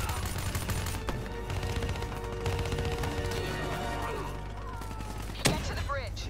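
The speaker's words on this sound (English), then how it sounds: "Give me some cover fire." Video game combat while escaping a prison, with rapid gunfire and bursts of shots crackling continuously over a dense background of engine rumble and clatter, with a sharper crack near the end.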